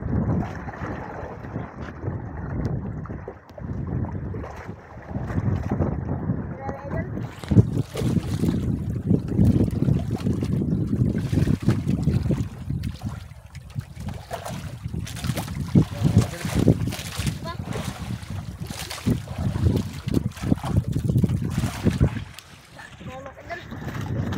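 Strong gusting wind buffets the microphone over a rumbling fishing boat at sea, with people shouting and talking intermittently.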